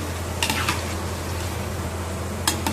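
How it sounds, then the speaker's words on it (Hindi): Boondi frying in hot oil in a kadhai gives a steady, even sizzle, with a few quick clinks of a utensil as the drops are turned over. "थोड़ा सा सिकने के बाद इस तरीके से अलट पलट कर लेंगे और सुनहरा होने तक सेक लेंगे।"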